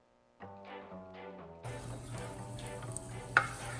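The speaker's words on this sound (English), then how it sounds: "saute some garlic" Garlic sautéing in oil in a pan for chili: after a few soft clinks, a steady close sizzle starts and continues, with a sharp clatter near the end.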